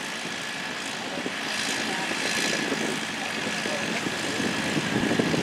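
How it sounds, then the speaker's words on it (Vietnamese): Longtail speedboat engine straining to push a heavily loaded boat across fast-flowing current, a loud continuous drone that swells slightly partway through, with faint voices under it. "Rồi bây giờ vỏ lãi kè cái ghe này lên nha các bạn."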